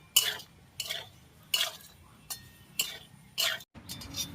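Soybean chunks stir-fried in mustard oil, a spatula scraping the pan in six or seven separate rhythmic strokes with steady low sizzling underneath, close and fairly quiet.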